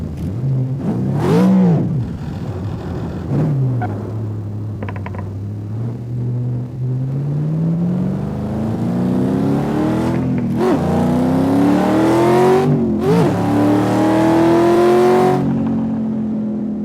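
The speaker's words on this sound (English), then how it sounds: "this is the natural sound of the car" A car engine with its natural, unmodified exhaust sound revs up loudly and close by, its pitch swinging up and down several times before climbing into a sustained high rev near the end; no voices.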